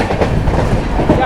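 Inside the Shalimar-Patna Duronto Express as it runs on a curve past Chittaranjan, a loud, dense rumble of wheels and carriage noise rolls on steadily with faint clatter throughout.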